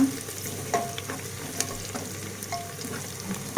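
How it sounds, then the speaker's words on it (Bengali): Onion, garlic, cardamom, cinnamon, bay leaf and cloves fry in oil inside a pressure cooker, making a close, continuous crackling sizzle with a few stirring knocks and no talk. "প্রেশার কুকারে তেল দিয়ে নিলাম তারপর একে একে পেঁয়াজ রসুন সেটা এলাচ দারচিনি তেজপাতা লং"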